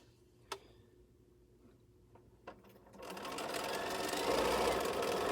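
A sewing machine at a live quilting sew-and-chat, starting after a couple of soft ticks and then running steadily and fairly close for the last half, a continuous whirring stitch with no voices.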